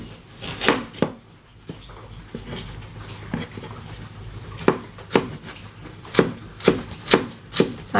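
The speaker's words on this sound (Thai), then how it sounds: "เดี๋ยวจะหั่นผักก่อนนะคะ" A knife chops vegetables on a board in irregular sharp knocks, sparse at first, then a quicker run of firm, close chops.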